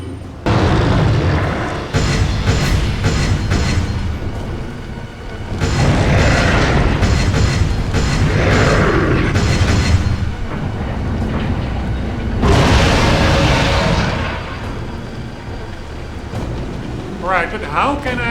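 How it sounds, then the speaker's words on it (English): Loud booming explosions from the mine thrower in Resident Evil 4 erupt in several heavy bursts across the stretch, with rumbling debris and dense game noise filling the gaps. "we can still use the mine thrower in this attempt as well"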